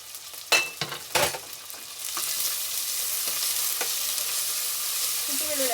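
Ginger garlic paste frying with green chillies, curry leaves and onion in hot oil, opening with two sharp stirring clatters from a spoon on the pan, then a steady close sizzle that holds throughout.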